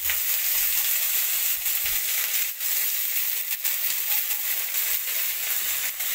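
Chopped onions fry in a hot pan for a home-cooked lunch, giving a loud, steady, close sizzle with brief stirring scrapes and no talk over it.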